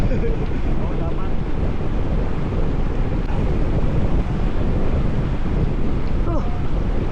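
Strong wind buffets the microphone during an outdoor ride, making a constant loud, low roar that fills the whole stretch without letup.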